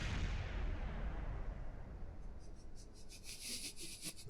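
A rocket crashes in the Kerbal Space Program video game: a heavy broadband roar and rumble that slowly fades, followed by a run of crackling, sputtering bursts near the end.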